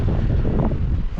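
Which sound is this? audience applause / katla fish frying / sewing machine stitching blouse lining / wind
wind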